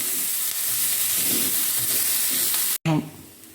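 Green chillies sizzling in a hot pan, a steady close frying hiss with occasional stirring scrapes, briefly cutting out before the sizzle resumes more softly.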